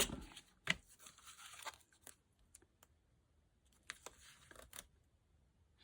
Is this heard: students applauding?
no